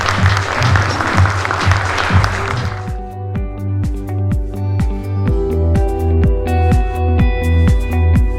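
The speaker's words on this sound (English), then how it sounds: "Let's clap for the gentleman." An audience at a smart manufacturing summit applauds a gentleman being honoured, a loud burst of clapping for about three seconds that then gives way to a steady rhythmic music beat.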